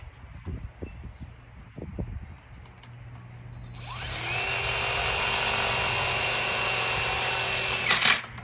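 A power drill drives screws into roofing metal for a raised bed, with a few handling knocks first and then a loud, steady high whine that runs for several seconds and stops abruptly.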